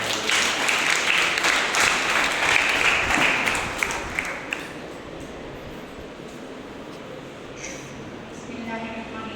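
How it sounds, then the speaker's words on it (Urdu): Seminar audience applause in a hall, a dense burst of clapping that rises loud for the first few seconds then fades into quieter room noise with a voice speaking afterward. "اپنا مقالہ پیش کریں، تالیوں سے استقبال کریں۔"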